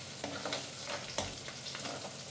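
Onion and garlic frying in a pan for a chicken dish, a soft steady sizzle with scraping stirring strokes recurring every half second or so, close and quiet, no voices.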